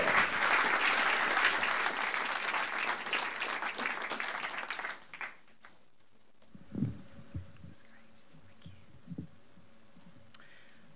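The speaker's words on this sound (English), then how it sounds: "Applause for Jill" Steady audience applause at an opening lecture session rings out for about five seconds, then stops abruptly, leaving a quiet hall with scattered knocks, shuffles and a faint hum.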